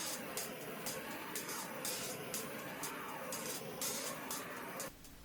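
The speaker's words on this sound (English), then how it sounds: "I'll torch it again to remove bubbles and level the epoxy." A torch heats poured epoxy on a red glass-top patio table to pop bubbles and level the surface, giving a quiet steady hiss with rhythmic pulsing bursts that cuts off abruptly near the end.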